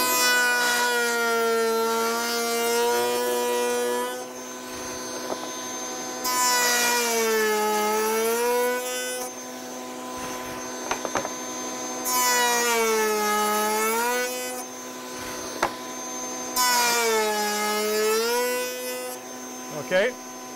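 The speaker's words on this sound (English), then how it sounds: "All right, so we're going to turn our router on here now and make our cuts." Router on a router table cutting cope cuts in wood, guided by a miter gauge with a push block: a loud, steady high-pitched whine runs throughout, rising into four bursts of harsh cutting roar as the wood passes the bit.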